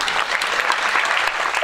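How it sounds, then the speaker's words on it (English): Audience clapping at a school assembly, a dense, steady wash of many hands applauding at once throughout, loud and continuous with no talk over it. "You can clap, it's all right."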